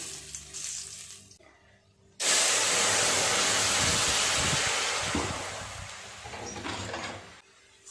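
Fish curry broth poured into a hot pan over fried five-spice seeds, a sudden loud, steady hiss of sizzling liquid after a quieter stretch, fading slightly toward the end with no talking.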